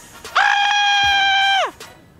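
A person lets out a loud, sustained scream with a strained, goat-like bleating quality, held steady for over a second before trailing off, in an outdoor street setting.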